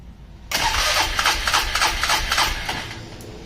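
A Polaris Trailblazer ATV engine starts abruptly and keeps running with a loud, rough, uneven idle that bogs slightly, close by with no talking.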